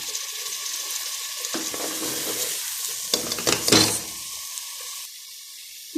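Drumsticks stirred in a sizzling pan for sambar, a steady frying hiss with scraping stir strokes and a brief louder burst of clatter midway, no voices.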